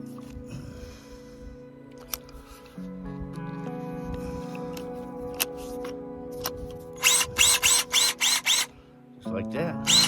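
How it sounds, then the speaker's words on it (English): A power tool whirs and shifts pitch, then a hammer drill with a point bit pounds bedrock in several short loud bursts before running on again; a voice speaks briefly. "Hammer drill."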